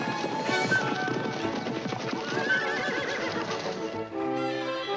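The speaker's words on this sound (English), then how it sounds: "Bogg mounts a horse and gives chase, with Geoffrey behind him, of course." A horse galloping in a chase in a period TV drama about Robin Hood, with loud rhythmic hoofbeats, neighing and whinnies throughout, close and busy.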